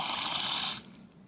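Water poured into a pot of soil around a transplanted moringa, trickling steadily for under a second before cutting off to quiet, with no voices.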